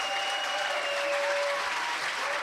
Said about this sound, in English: I want the applause here to be louder than the one next door.